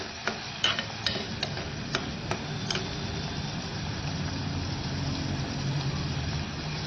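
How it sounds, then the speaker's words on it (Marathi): Tomatoes sauté with onions in oil in a pan, a low continuous sizzle under a string of light clicking scrapes from stirring, which fade to an even hiss. "टोमॅटो छान मऊ होईपर्यंत परतून घ्यायचा"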